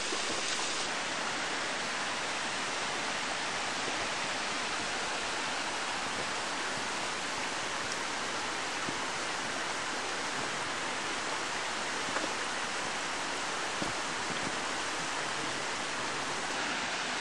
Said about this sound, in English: Endless cascading waterfalls.